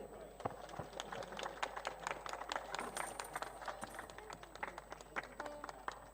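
Scattered hand clapping from a devotional gathering during a donation moment before an aarti, irregular claps with a low murmur of voices.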